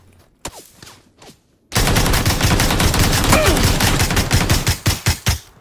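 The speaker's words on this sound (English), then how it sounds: "I'm not sure how I missed all these shots." Rapid gunfire from the battle royale game PUBG on PS4, a dense sustained burst of close shots after a few scattered single cracks, ending in separated individual shots.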